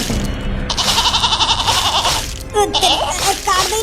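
Goats bleat in a quick series of wavering, nasal calls outdoors, close and fairly loud, with some background voices mixed in.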